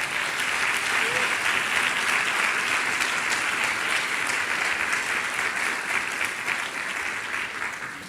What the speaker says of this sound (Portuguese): Aplauda o Senhor Jesus Cristo.